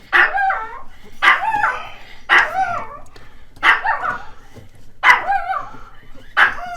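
A dog barks loudly and close by in a home during a baseboard heater installation, giving six evenly spaced barks about every second and a half, each with a whiny edge, and no talk over them.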